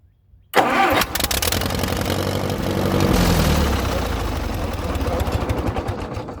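An engine cranks and fires, then roars loudly and raggedly through a rotted-out muffler, a harsh close rumble that keeps running steadily.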